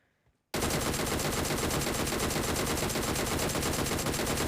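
Gunfire in the battle royale game PUBG breaks out after a brief quiet start, then a loud, dense, continuous burst of rapid automatic shots fills the rest of the clip without pause.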